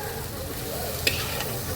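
Prawn bharta mixture with salt and turmeric fries on low heat, giving a soft, faint sizzle with a brief spoon scrape against the pan partway through.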